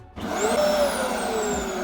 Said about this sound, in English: Just chuck the hoover in there, get any rubbish out.